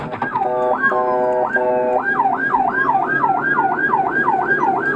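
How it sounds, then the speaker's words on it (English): An ambulance siren wails loud and close as the vehicle races through traffic, first a few rising-and-falling sweeps, then a fast, steady warbling cycle repeating without pause; no one speaks. "He's transferred to an ambulance."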